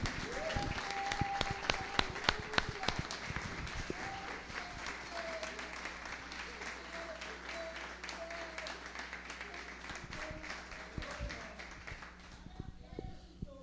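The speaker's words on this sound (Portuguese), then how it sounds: "De toda a sua força, aplaude a Deus." A church congregation applauding during a ministry anniversary service, many hands clapping with sharp irregular claps over a steady low hum, voices heard underneath, fading out near the end.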